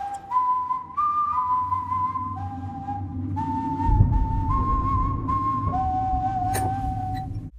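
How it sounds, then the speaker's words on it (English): Death, the wolf villain of the animated film Puss in Boots, whistles his eerie tune: a clear, sustained melody of shifting notes over a low, rumbling musical backdrop, with a brief swell near the middle. "his iconic whistle"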